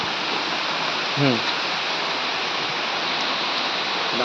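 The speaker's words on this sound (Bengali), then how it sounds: "প্রচুর বৃষ্টি হচ্ছে।" Heavy rain falls on a mango orchard, a dense, steady rushing hiss heard from under a shelter, with a brief voice-like sound partway through.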